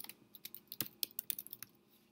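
Rapid, irregular clicking of keys on a computer keyboard while a storyboard is built in Trello, close and fairly quiet, with no voices.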